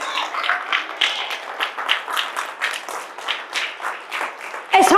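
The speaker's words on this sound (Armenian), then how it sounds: "Ավելի բարձր ծափարի Տիրոջը։" A church congregation applauds the Lord during a sermon, with loud, rhythmic bursts of clapping repeating steadily for several seconds before a brief sharp sound at the end.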